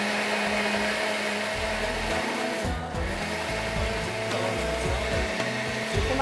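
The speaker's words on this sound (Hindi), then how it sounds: "प्याज और टमाटर को बॉईल करके आपने blend कर दिया।" Boiled onion and tomato whirring in a blender for a gravy, a loud continuous motor grind close by with a brief dip midway, no talking.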